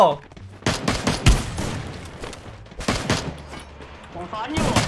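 Gunfire in the Free Fire mobile battle royale game, with sharp bursts of rapid shots and single cracks spread across several seconds, mixed with excited voices talking over the action.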